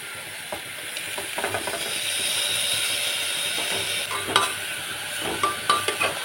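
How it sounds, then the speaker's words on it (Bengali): Minced meat with a little ginger-garlic paste lightly frying in a pan, a steady close sizzle broken by scraping, clinking strokes of a spoon stirring it, with sharper knocks near the end. "খুব বেশি ভাজবো না, একটু সামান্য নাড়াচাড়া করব"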